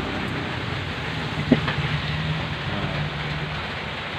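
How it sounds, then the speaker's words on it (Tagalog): Heavy rain falls outside a small shop at night, a constant close hiss and patter of drops with a low hum beneath and a single sharp tap midway, no speech. "Lakas ng ulan guys."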